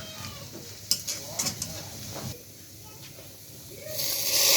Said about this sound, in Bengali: রসুনের লগে জিরাটিও ভাজা হয়ে যাক।